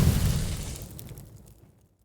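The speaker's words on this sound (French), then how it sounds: "C'est le soleil qui explose, non?" Sun exploding into a supernova in the video game Outer Wilds, a loud deep rumbling blast that fades steadily over about two seconds into silence.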